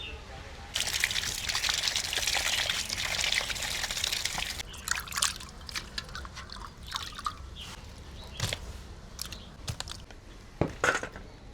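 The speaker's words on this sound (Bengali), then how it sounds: "এবার মাছগুলোকে ভালো করে চোখটে চোখটে ধুয়ে নেব" Cut pieces of live pond-caught lata fish are washed by hand in water, with a rush of pouring water at first, then close splashes, trickles and wet handling sounds, faint and intermittent.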